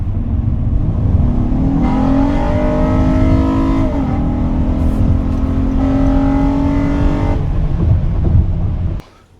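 A Honda Odyssey minivan engine with its air filter removed revs up repeatedly, rising and falling in loud, close pitch sweeps with a throaty intake roar before cutting off abruptly near the end.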